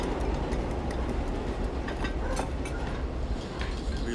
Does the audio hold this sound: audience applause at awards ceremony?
no